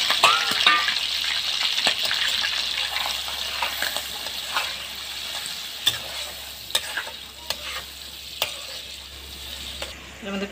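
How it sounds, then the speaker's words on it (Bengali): Shrimp frying in a pan with oil for a Bengali shrimp and potato dopiaza, a steady close sizzle running throughout with occasional sharp clicks and stirring knocks, no talking. "মাছটাকে ভেজে নেব।"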